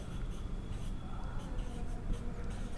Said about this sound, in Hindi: मैं लिख दे रहा हूं यहां